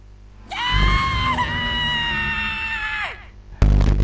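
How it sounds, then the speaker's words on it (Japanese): A long, high, piercing scream of fright rises sharply, holds for about two and a half seconds and then falls away, loud and close. A short burst of loud noise follows right after it. "ついに我慢できず悲鳴を上げてしまった。"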